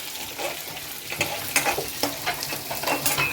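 Taro stolons frying in a pan with onion and garlic, giving a steady soft sizzle broken by repeated scraping stirs of a utensil, close and moderately loud, with no talking.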